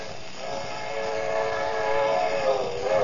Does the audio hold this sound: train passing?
yes